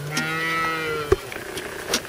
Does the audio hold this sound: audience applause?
no